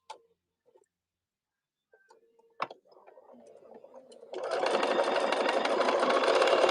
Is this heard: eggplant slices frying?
no